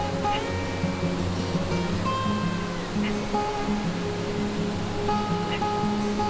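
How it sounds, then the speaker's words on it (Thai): Steady rushing water at Ta Yai waterfall in Saraburi, Thailand, a continuous broad wash of falling water with faint tonal hum underneath, constant and fairly loud with no talking. "บรรยากาศน้ำตกตายาย"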